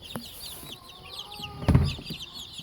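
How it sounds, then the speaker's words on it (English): Buff Orpington and broiler chickens cluck and murmur softly in a backyard coop, with scattered high bird calls and one louder, close burst of clucking near the end. "This side are my broilers."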